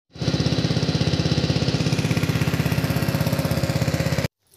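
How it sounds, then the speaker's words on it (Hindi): A tractor engine runs loud and close with a fast, even chugging beat that holds steady for about four seconds and then cuts off abruptly. "ट्रैक्टर जो पानी में फुल हो गया था तो अभी जा रहा था"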